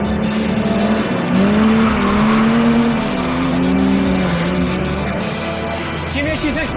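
A Sportec restomod Porsche accelerates hard on an Alpine road, its engine note climbing loud and close through the gears with rising, wavering pitch and a brief tire chirp near the end.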